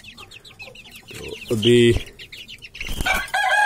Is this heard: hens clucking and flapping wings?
yes